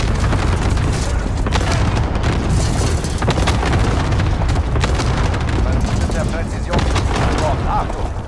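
Enemy cluster strike in the Modern Warfare video game, a rapid continuous barrage of loud booming explosions and blasts rumbling for several seconds, dense and close with debris-like bursts.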